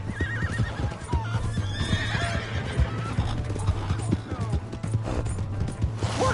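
Horse neighing and hooves clopping in the Western video game Red Dead Redemption 2, with whinnies over steady hoofbeats and game music, close and prominent, while voices shout in the scene.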